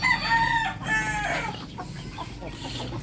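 A backyard gamefowl rooster crows once, fairly close, a short strained call at the start, followed by soft clucks and farmyard background.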